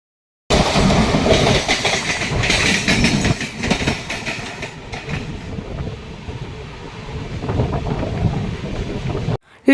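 A 12245 Durdanto Express train runs on rails, a loud, steady rumble with rhythmic clatter throughout, easing slightly in the second half before cutting off.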